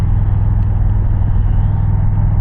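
Indian Challenger motorcycle fitted with a Powerband Audio exhaust, ridden near Pine Island, New York, producing a steady, loud, deep engine rumble that holds constant throughout with no voices.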